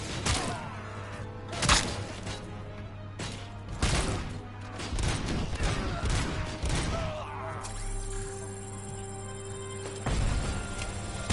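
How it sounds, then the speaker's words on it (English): Shotgun blasts in the video game RoboCop: Rogue City, several loud booming shots spaced a couple of seconds apart over a busy game soundscape of clatter and impacts, with someone talking now and then. "Oh yeah, shotgun's brutal."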